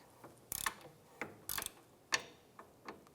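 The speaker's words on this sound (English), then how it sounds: "Use your 15mm socket, go ahead and loosen and remove the nut on the end here." Ratchet with a 15mm socket loosening a sway bar link nut on a 2005-2007 Ford 500, several short bursts of rapid close clicking separated by brief pauses and single ticks, quiet and without talk.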